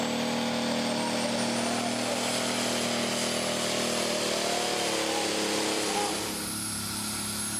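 Tractor at a tractor pull event dragging a heavy sledge, a continuous loud engine drone with a rising whine, heard from a distance and easing slightly near the end.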